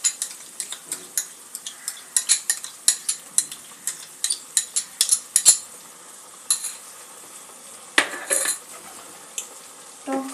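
Sour yogurt stirred into frying spice paste for katla fish rezala, a series of metal spoon clinks and scrapes against the pan over a faint sizzle, close and without talk.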